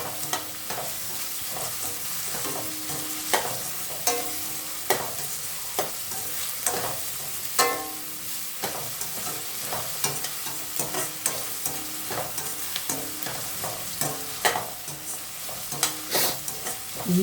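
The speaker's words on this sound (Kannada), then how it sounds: "ಆನಿಯನ್ ಫ್ರೈ ಆಗಿದೆ ಚೆನ್ನಾಗಿ" Onions sizzle and fry in a pan for onion pepper egg rice, a steady close crackle broken by frequent scraping stirs and clinks of a utensil against the pan.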